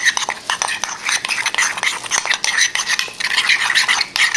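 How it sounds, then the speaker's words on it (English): A spoon stirs Italiano spice mix into food in a bowl, with rapid, irregular scraping and clinking strokes close up and fairly loud, with no voices. "I'm going to add some of my Italiano spice to this. So this is what we're doing. And then mix."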